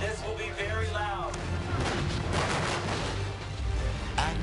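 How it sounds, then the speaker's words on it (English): Loud film special-effect booms for a war epic about Pearl Harbor erupt in a dense, rumbling barrage of blasts, near and powerful, with a brief voice at the start. "I'm just going to make up some booms for you, all right? This will be very loud."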